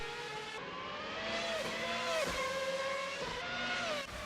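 A Formula Hybrid V12-R race car in a racing video game screams at high revs, its engine pitch sweeping up and dropping sharply at gear changes, loud and sustained with no talk over it.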